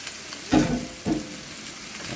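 Minced beef dropped into hot oil and tomato sauce in a pot, two short sizzling bursts over a low steady frying hiss.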